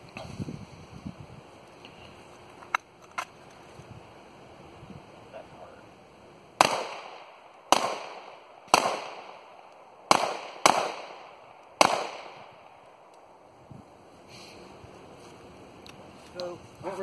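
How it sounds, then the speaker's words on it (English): Sharp gunshots from a Walther CCP concealed carry pistol fired outdoors in cold weather, about six loud cracks in an irregular sequence, each with a short echoing decay, and a few fainter pops before and after. "It's a Walther CCP concealed carry pistol."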